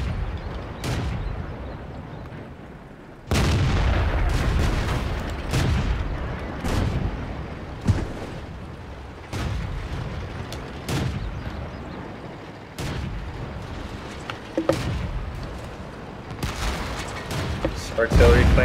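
Artillery shells and tank cannon fire boom through a World of Tanks battle with a British Tier 5 A33 Excelsior heavy tank, repeated heavy blasts and rumbling impacts at irregular intervals over continuous engine and battlefield noise.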